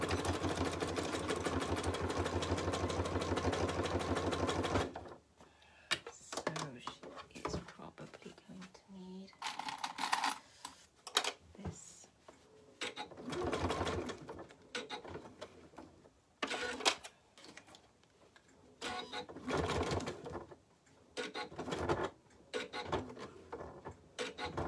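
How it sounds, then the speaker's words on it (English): Sewing machine stitching through thick waxed canvas and cork for a bag seam, a steady loud mechanical whir for about five seconds that then gives way to scattered handling clatter and talk. "Right, so let's sew this."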